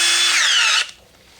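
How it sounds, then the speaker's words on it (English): A power drill spins a small 3/32 bit into wood, a steady high whine that lasts about 0.8 seconds and then cuts off abruptly, leaving quiet. "we'll drill in the front"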